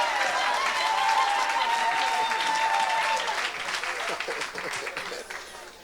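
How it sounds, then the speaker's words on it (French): A church congregation applauds and cheers for Jesus during a French-language evangelical service, dense sustained clapping filling the room and tapering slightly toward the end, with some crowd voices mixed in. "Est-ce qu'on peut acclamer pour Jésus?"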